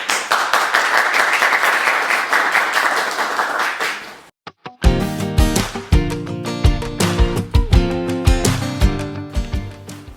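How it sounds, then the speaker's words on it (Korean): Audience applause at a Hoseo University disability-awareness lecture, steady dense clapping for about four seconds that stops abruptly, followed by loud tonal music with sharp percussive hits. "큰 박수 부탁드리겠습니다"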